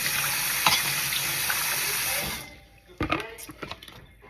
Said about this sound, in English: Then I'm just going to rinse it off, rinse the seeds off of